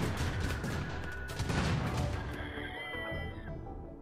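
Dense bursts of rapid gunfire in the colony-building video game Rimworld, layered with shrill game sound effects and a continuous busy mix, fairly loud throughout before thinning near the end.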